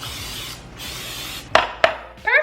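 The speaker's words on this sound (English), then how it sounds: "I'm gonna use the olive oil pan spray" A hissing spray of olive oil cooking spray runs for a moment, pauses, then continues, followed by a few sharp clicks and clatters of a metal muffin tin.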